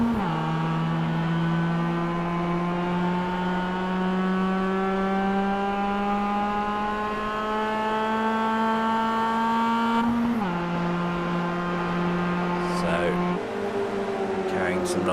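Onboard engine of a roadster race car at Phillip Island, a steady high-pitched drone that climbs gradually under power, then drops abruptly on a gear change and pulls again, with a commentator talking over it.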